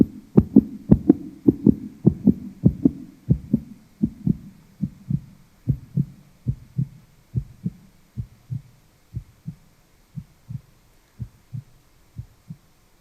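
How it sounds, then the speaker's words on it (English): A heartbeat sound effect thumps in steady double beats, loud and close at first, then slowing and fading gradually over about a dozen seconds with no talk. "there's been a common theme throughout my presentation tonight, and it's been the heartbeat"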